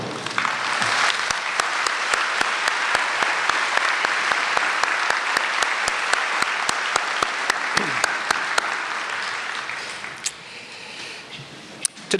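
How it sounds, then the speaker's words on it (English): Sustained audience applause fills a commencement ceremony at Missouri State-West Plains, a dense steady wash of many hands clapping for about ten seconds before thinning out, with a few scattered claps at the end. "I request that they stand and that you recognize all of them with your applause"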